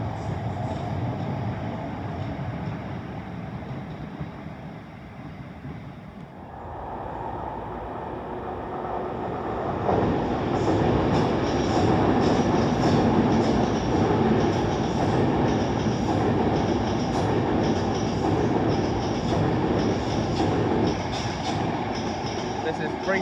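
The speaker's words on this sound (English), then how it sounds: "This is 35240 and 35266 arriving into Euston." Class 350 electric multiple units arrive into London Euston station, a steady rumbling roll of wheels that swells louder partway through and continues with clattering rail joints close by.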